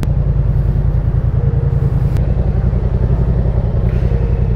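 A motorcycle rides along a road between Capiz and Iloilo, its engine giving a steady, close, throbbing drone with a constant pulsing rumble throughout, with no talking.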